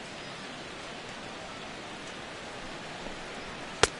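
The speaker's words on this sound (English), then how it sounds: "the rain continues to fall here" Steady, soft rain falls over a ballpark in MLB 16 The Show, a faint even hiss with no voices, broken by one brief sharp tick near the end.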